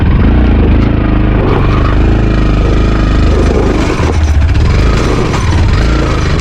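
A motorcycle rides a mountain trail, its engine droning loudly and steadily throughout with rough, uneven revving as it climbs.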